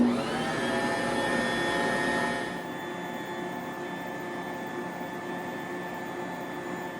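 An electric mixer whirs steadily as it mixes dinner roll dough with added flour. It is loud at first, then drops to a quieter, even hum partway through.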